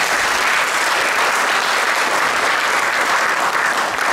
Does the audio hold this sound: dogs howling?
no